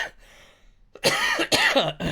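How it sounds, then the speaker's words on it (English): A person coughs twice, loud and close, with a short pause between the harsh bursts. "I'm trying to fight this cough"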